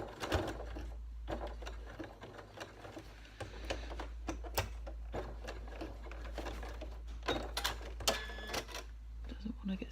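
A sewing machine stitches along the edge of a mesh bag in quiet, irregular ticking bursts over a steady low hum, with clicks and handling noises close by.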